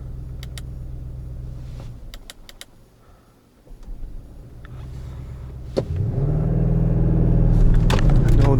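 An Audi RS6 Avant C8 in RS mode idles with a low rumble, quiets briefly, then launches into hard acceleration, the engine swelling to a loud, sustained roar heard from inside the cabin.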